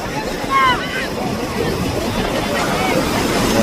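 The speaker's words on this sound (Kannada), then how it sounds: "ಸಿಕ್ಕಾಪಟ್ಟೆ ಗಾಳಿ ಅಲ್ವಾ ಇಲ್ಲೆಲ್ಲ" Strong wind buffets the microphone at a crowded beach with surf rumbling, a loud continuous roar, while voices talk faintly in the background.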